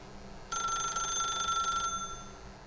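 A telephone rings in the video game The Stanley Parable, one bright electronic ring lasting over a second that starts abruptly and stops cleanly over a quiet, low background hum.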